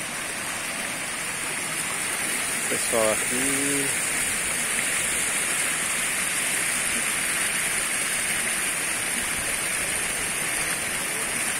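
Water overflowing the spillway of the Dourado reservoir roars in a loud, steady rushing wash throughout, with someone speaking briefly over it early on.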